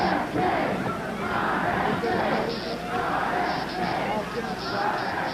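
Crowd in a hotel ballroom just after a gunshot, voices rising into screams and shouts over a dense, steady roar of many people moving and calling out at once.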